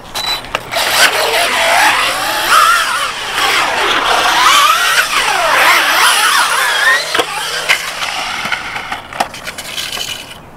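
An Arrma Typhon 3s RC car bashes around a skate park. The motor whines loudly and changes pitch as it speeds up and slows down, with clattering impacts and scrapes on the ramps. The sound is close, and nobody talks.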